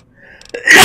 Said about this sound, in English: Now when you got a sneeze coming for a long time.